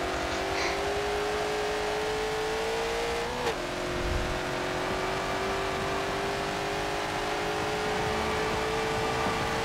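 Race car engine in Forza Motorsport 7 during a Sport GT Icons race, a mid-engine car holding a steady, slowly rising drone with a brief sharp blip partway through and no talk.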